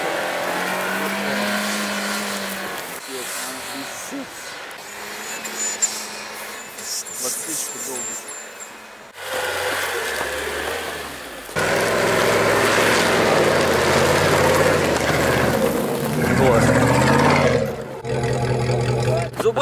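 A Suzuki Jimny off-road vehicle stuck in a ravine revs its engine, the roar rising loud and strained in bursts with shifting pitch, muffled at first and then close and sustained.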